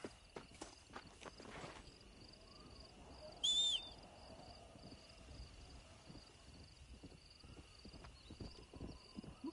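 Faint horse hooves clop in an irregular walking rhythm in the video game Red Dead Redemption: Undead Nightmare, under quiet ambient noise, with a brief high tone sounding partway through.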